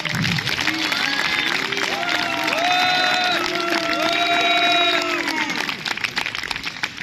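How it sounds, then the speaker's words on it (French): An outdoor audience at an ancient Roman reenactment festival applauds and cheers the Mirmillon gladiator, sustained clapping from a crowd with rising whoops and shouts over it, fading slightly toward the end. "On applaudit le Mirmillon."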